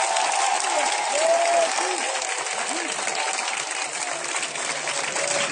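A congregation at an evening crusade gathering in Brabodougou claps and cheers steadily and loudly for the whole stretch, with voices whooping and calling out through the dense applause.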